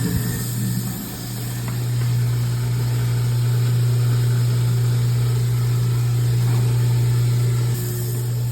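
A newly installed kitchen garbage disposal runs under test with a loud, steady low hum and whir, constant for several seconds after a brief dip at the start, with no voices.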